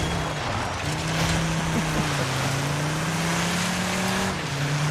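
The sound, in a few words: racing car engine in a video game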